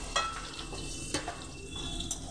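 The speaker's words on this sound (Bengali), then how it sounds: "এখন আলু ভাজছি" Potatoes frying in oil in a pan give a steady, close sizzle, with a few light scrapes of stirring over it.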